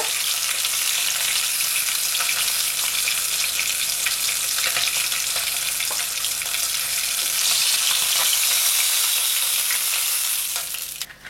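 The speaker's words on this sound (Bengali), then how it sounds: "আরো যে কটা পিস আছে একসাথে ভেজে নেব" Pieces of fresh bhetki fish fry together in hot oil in a pan, giving a loud, continuous sizzle and crackle close up for the whole stretch, with no voices over it.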